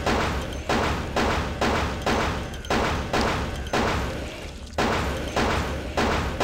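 Rapid bursts of heavy gunfire in Vampire: The Masquerade – Bloodlines repeat in a steady rhythm, each volley a dense run of loud thumping shots with only short gaps between them.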